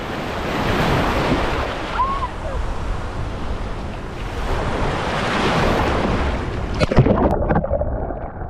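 Ocean waves break and wash continuously onto a beach in St Vincent, a loud rolling surf with wind buffeting the microphone, swelling and receding over several seconds.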